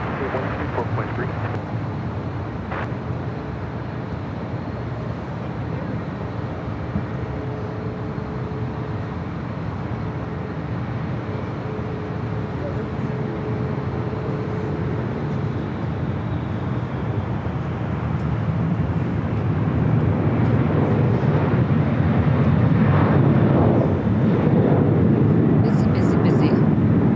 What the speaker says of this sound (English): Delta Airlines, flight 979, heading off to JFK, 767-300 ER.